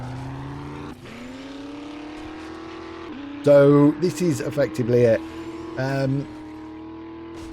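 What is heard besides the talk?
monster truck driving in video game 7 Days to Die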